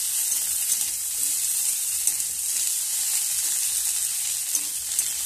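Ginger-cumin paste and potatoes fry in a pan, giving a steady, close sizzling hiss throughout. Faint occasional stirring scrapes sit underneath, with no one speaking.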